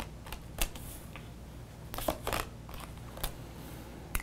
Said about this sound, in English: Let me just lay down these cards here.